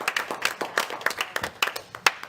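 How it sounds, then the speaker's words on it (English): Clapping at a regular city council meeting in Borger: a small number of hands beating in an uneven rhythm, fairly faint and sparse, with individual claps easy to pick out. "So I just applaud you."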